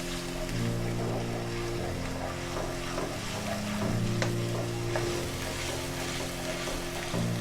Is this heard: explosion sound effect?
no